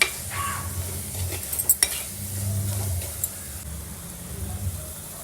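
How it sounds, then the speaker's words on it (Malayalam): Chilli and other spice powders sauté in a pan for a Kerala-style fish curry, with a low sizzle under repeated scraping and clinking of a metal spoon against the pan. "ഇനി പൊടികളുടെയൊക്കെ പച്ചമണം മാറുന്നവരെ നമുക്ക് നല്ലപോലെ ഒന്ന് വഴറ്റിയെടുക്കാം"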